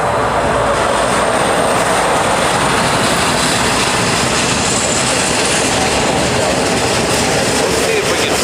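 A Hawaiian Airlines A380 Flying Honu jet arriving at Honolulu during the morning rush, a loud, continuous roar of jet engines that holds steady without a break.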